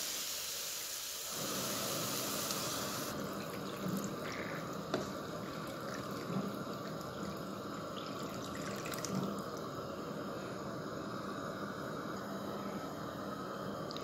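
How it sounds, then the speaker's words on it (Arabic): Tomato water pours into a cooking pot while pasta is being made, a soft, continuous liquid splash and trickle that runs steadily for over ten seconds, quiet and close. "ورح ننزل مية البندورة"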